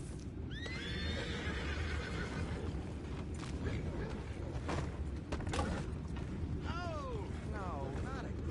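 Horses neigh and whinny in a Red Dead Redemption 2 camp scene, with several rising calls over steady ambient background noise and faint hoof clops, fairly distant and moderate in level.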